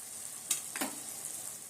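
Banana flower being stirred into masala in a pan, a quiet background sizzle with two short, close scraping strokes of the spoon near the start.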